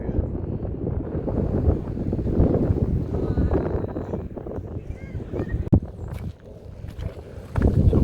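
Wind gusting outdoors at Neshaminy State Park near Philadelphia, a steady low rumble buffeting the microphone for the whole stretch, swelling and easing with a sharp bump partway through.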